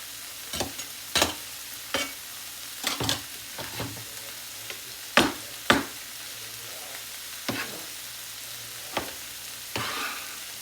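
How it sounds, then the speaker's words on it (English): Garlic sautés in a pan with a quiet, steady sizzle, punctuated by about a dozen sharp scraping and tapping strokes of a utensil at irregular intervals. "Let the garlic saute a little bit."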